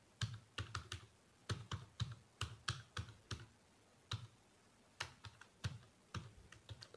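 Computer keyboard keys typed in quick, irregular bursts of sharp clicks with short pauses, close and fairly quiet, while HTML formatting tags are written; no talking.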